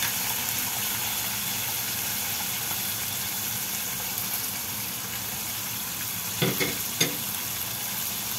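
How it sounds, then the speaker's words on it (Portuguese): Fish fries in a pan with a constant close hiss and sizzle, then two brief utensil clinks near the end. "Vamos fritar nosso peixinho"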